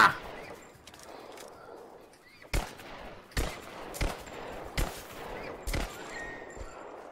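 Five sharp gunshots ring out at roughly even intervals in Rise of the Tomb Raider, each a loud broadband crack over a quieter outdoor game ambience with faint bird calls.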